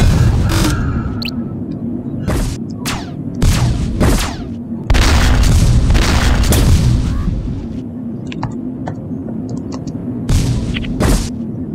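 Bombs exploding in the space combat game Starfighter Infinity: a dense series of heavy, booming blasts in quick irregular succession over a constant low engine drone, loud and close.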